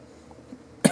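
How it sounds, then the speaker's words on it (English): A single short cough bursts out near the end, close and fairly loud, after a stretch of quiet room tone. "Sorry about the coughs in between."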